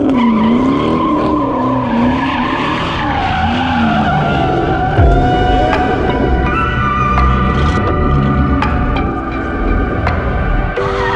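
A drift car spins out, its tires skidding and squealing loudly over a revving engine, the shrieking slide sustained for about eleven seconds close to the listener.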